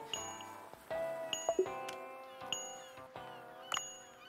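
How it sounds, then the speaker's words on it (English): Beeping phone-app chimes from the video game Dave the Diver: a run of bright, short ding and jingle tones, several separate pings spaced over a few seconds over a soft musical game backdrop. "Please can you stop beeping?"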